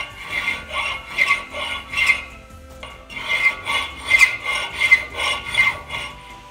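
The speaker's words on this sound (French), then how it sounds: "on peut travailler avec une lime plus fine" A fine hand file rasps across a metal workpiece in a workshop, with steady back-and-forth strokes in two runs separated by a short pause, close and clear with no talking.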